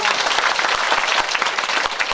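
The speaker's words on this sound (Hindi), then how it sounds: "इसलिए समस्त ग्रामवासियों के लिए एक बार जोरदार तालियां" A crowd at a Bhagavat Katha religious discourse applauds the villagers in a dense, steady roar of many hands clapping, close and loud throughout, with no speech over it.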